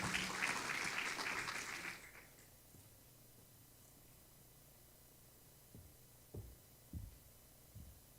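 A church congregation bursts into loud applause for about two seconds, then it quickly dies away into near silence broken by a few soft thumps.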